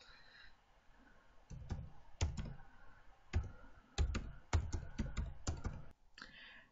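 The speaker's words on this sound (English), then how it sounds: "So I'm just going to type mine in now." Login details are typed on a computer keyboard as scattered, crisp key taps in small clusters, close up and fairly quiet, with brief gaps between groups.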